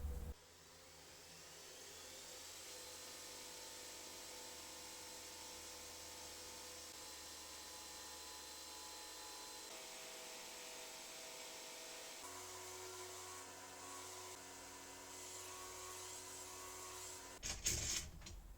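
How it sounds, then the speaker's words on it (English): A steady whining drone of a grinder shaping the end of a longsword guard in a workshop runs evenly and fairly quietly, shifting pitch partway through and ending in a brief clatter. "I'm going to do that on the grinder."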